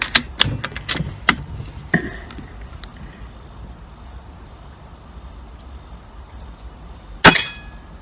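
Several sharp air gun pellet shots clustered early, each a crisp crack through a chronograph, followed by quiet and one more loud snap near the end.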